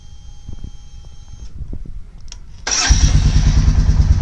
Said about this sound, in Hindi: अब आपको स्टार्ट करके बाइक दिखाता हूं